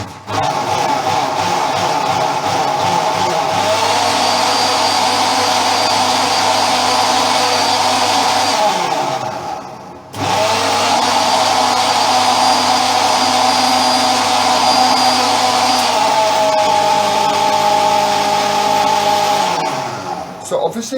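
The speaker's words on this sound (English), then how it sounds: "And then I'm going to liquidize this." A blender liquidizes oats with cold water for a vegan iced coffee, roaring loudly in two long runs with a brief stop in the middle and a whining spin-down at the end; a person's voice is barely audible.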